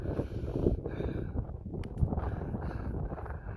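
Strong wind gusting across open sand dunes, a steady rumbling roar of buffeting air and blown sand close to the microphone, swelling slightly in brief gusts with no voices.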